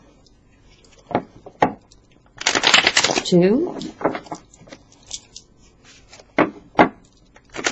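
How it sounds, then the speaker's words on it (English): A deck of tarot cards being shuffled by hand, a loud riffling burst in the middle with crisp card snaps and taps before and after, close up, while a person counts aloud between shuffles. "I'm going to go ahead and do some shuffles here"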